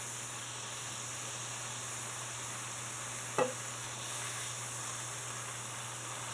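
Pork rib trimming burgers fry in a pan under a splatter guard, giving a steady, even sizzle and hiss with a low hum beneath and one brief sharp clink midway.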